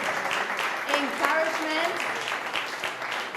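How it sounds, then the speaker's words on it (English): An audience applauds at an energy-startup summit panel, a steady spread of clapping running beneath a speaker's voice, which carries on over it throughout. "So now we can give them a round of applause"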